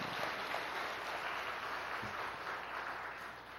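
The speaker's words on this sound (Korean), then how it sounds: "우리 저들을 위해서 뜨거운 박수 한번 하시죠" Warm applause from a Sunday church congregation for the choir and orchestra, a steady, even wash of many hands clapping at moderate level throughout.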